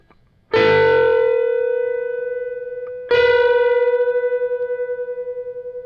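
Two plucked guitar notes ring out one after another, a string bend slightly out of tune, each sustaining with a slow wavering pulse as the pitches clash.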